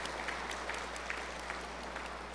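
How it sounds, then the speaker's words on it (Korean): Citizens at a Siheung city roundtable meeting applaud together: a steady, fairly faint wash of many hands clapping with scattered sharper claps, continuing evenly without speech over a low hum. "박수 한번 부탁드리겠습니다"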